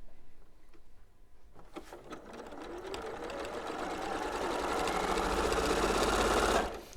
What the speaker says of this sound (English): I'll just whiz them through the sewing machine just to show you what I mean